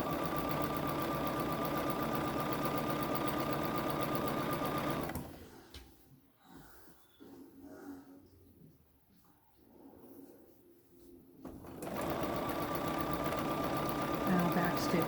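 Home sewing machine stitching a pillowcase, a loud steady mechanical whir that cuts out midway for a few seconds of quiet handling and soft voice, then resumes at full speed.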